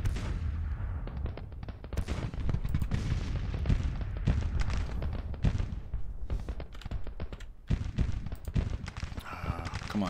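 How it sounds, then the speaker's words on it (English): Volleys of 6-pounder field guns and musketry in a Civil War battle in the strategy game Grand Tactician, with dense, overlapping booms and cracks rolling continuously at a loud, steady level. "Let's deal with that battery. Those are 6-pounder field guns."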